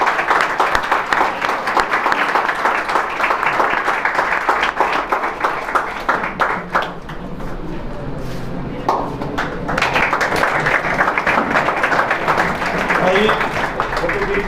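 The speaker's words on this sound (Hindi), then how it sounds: "जोरदार ताली बजाओ भाई" A crowd at a teachers' seminar in Narwana, Haryana claps loudly and steadily, dense rapid applause close by with a shouted voice breaking in partway through before the clapping surges again.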